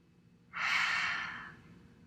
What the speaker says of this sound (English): So deep breaths in and out.